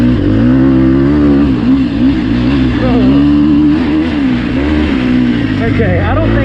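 A Sherco SEF300 dirt bike running in its aggressive engine map at Crow Canyon roars loud and close throughout, its pitch rising and dipping as the throttle is worked, with a voice talking over it.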